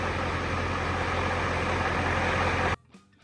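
A 7.3 IDI diesel truck engine idles with a steady, rumbling drone up close, then cuts off abruptly near the end, leaving near silence.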